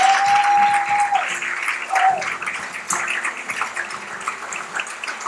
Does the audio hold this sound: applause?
yes